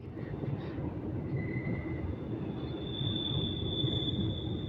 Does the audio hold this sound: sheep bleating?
no